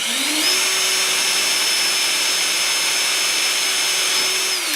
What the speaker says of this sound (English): I'm going to drill another one just in case that one doesn't work out where I want